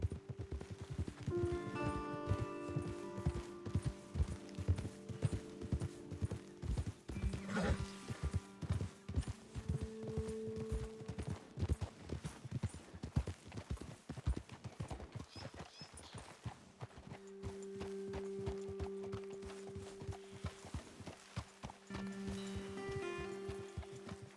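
Steady hooves clip-clopping as horses trot along in Red Dead Redemption 2, with a brief whinny partway through; no talking over it.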